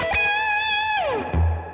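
A short distorted electric guitar lick in a modern pentatonic style plays alone: a bright sustained note glides downward, followed by a low thump, all within under two seconds.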